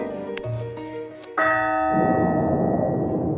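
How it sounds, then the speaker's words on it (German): A bell strikes the hour, ringing out with bright sustained tones that overlap and decay, followed by a broad noisy wash of sound; fairly loud and alone without talk. "das war der Glockenschlag"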